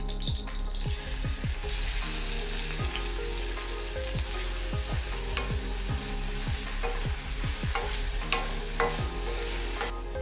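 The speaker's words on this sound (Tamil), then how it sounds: "இப்போ நம்ம பேன்ல ஆயில் ஊற்றிடலாம். ஆனியன் போட்டுடலாம்." Onion frying in coconut oil in a pan, sizzling continuously at close range with steady stirring and scraping, alongside quick sweeping thuds that come and go.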